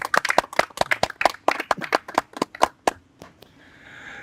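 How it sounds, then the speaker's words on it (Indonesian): A room of listeners at an Islamic religious talk applauds sincerely with a quick burst of crisp, sharp hand claps that tapers off, leaving a soft hiss of room noise and no talking. "tepuk tangan yang ikhlas"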